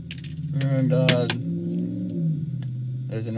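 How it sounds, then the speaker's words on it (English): A noisy car passes outside while a tiny hard drive is taken apart indoors; the engine swells and revs, then fades, with a voice at times. "there's a noisy car with another motor."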